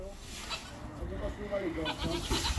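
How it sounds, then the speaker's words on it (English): Sheep bleat on an upland farm, a few wavering calls at moderate distance amid wind and outdoor rumble, with people talking nearby. "We've come up to do the sheep."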